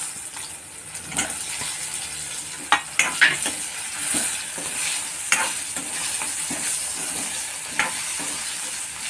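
Raw green mango pieces drop into hot oil tempering reddened with asafoetida, giving a steady sizzle with occasional sharp spatters and stirring scrapes up close, no one speaking.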